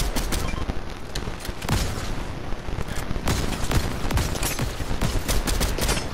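Rapid video game gunfire: dense bursts and overlapping shots crackle continuously, loud and close throughout with no talking.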